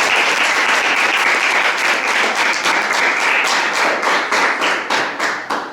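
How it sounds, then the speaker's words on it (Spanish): An audience at a talk on debate breaks into loud, dense applause, many hands clapping close and steady throughout before thinning into a few separate claps at the close. "Primero un aplauso."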